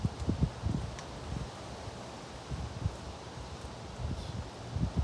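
Sudden cold-front wind gusts buffet the microphone in low rumbling bursts, with a steady outdoor rustle underneath and no talking.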